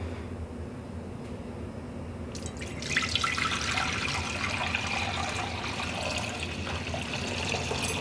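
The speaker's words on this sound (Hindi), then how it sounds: "तो इसमें मैं डाल दूंगी पानी।" Water rushes steadily into a pot, a bright splashing pour that starts a few seconds in after a quiet room hum and keeps going to the end.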